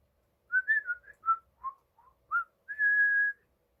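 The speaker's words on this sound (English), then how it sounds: "The birds whistled loudly." Birds whistling loudly in a morning scene, a run of short bright chirping notes followed by one long sustained whistle, clear and close with nothing else heard.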